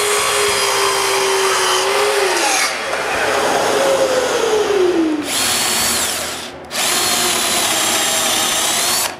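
Power tool cutting a dried, glued wooden assembly to length while building a miter-saw cabinet, a loud continuous whine whose pitch sags under load, with two short pauses before the cut resumes.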